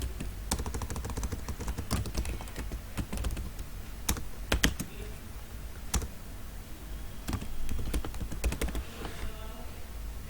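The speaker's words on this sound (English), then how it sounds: "So when you type your option, or when you type your question, it automatically select the answer type." Steady typing on a computer keyboard while filling in an online form, with rapid close key clicks in irregular bursts and a few sharper taps throughout, no voices heard.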